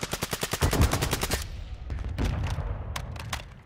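Rapid automatic gunfire in a video game team firefight rattles out in a fast, even string of close, loud shots. Scattered distant shots and pops follow over the noisy background.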